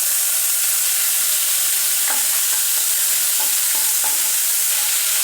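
Lemon rice with curry leaves is stirred and mixed in a hot pan, giving a steady loud sizzle with a few distinct scraping stirs of the spoon partway through. No voices are heard.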